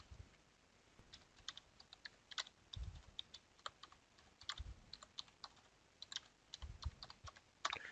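Rapid, uneven keystrokes clatter on a computer keyboard, close and crisp, with short pauses and occasional heavier thumps like a space bar or enter key, and no talking.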